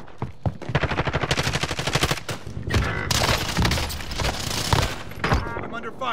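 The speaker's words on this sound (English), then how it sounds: "I'm under fire." Video game gunfire from akimbo Sykov pistols: rapid, loud automatic bursts rattle in quick succession, then heavier blasts and echoing shots follow in a busy, close firefight.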